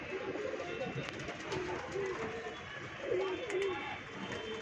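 Soft pigeon cooing repeats a few times under a steady background hum, with someone talking throughout.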